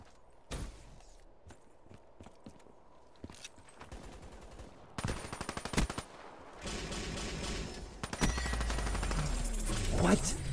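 Video game gunfire, single sharp shots giving way to dense bursts of rapid automatic fire, loud and close, with footsteps and thuds between volleys.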